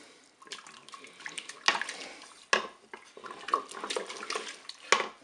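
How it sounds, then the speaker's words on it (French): Mussels in crème fraîche are stirred in a Cookeo pot, giving wet, sloshing scrapes and clinks of shells and utensil in irregular bursts, close and fairly quiet. "Je mélange."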